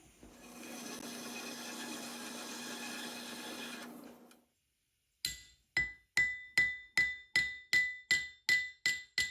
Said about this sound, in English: put it in there and hammer it, and it'll expand out